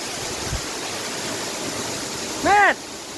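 Steady waterfall plunging into a pool on a jungle expedition, a constant broadband rushing hiss throughout, with a brief voice or call near the end.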